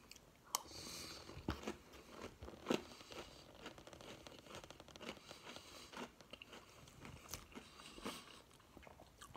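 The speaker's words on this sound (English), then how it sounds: "I'll take a second bite just to make sure." Pops cereal soaked in milk being bitten and chewed close up, with irregular crunchy bites and wet munching continuing steadily throughout, no talking.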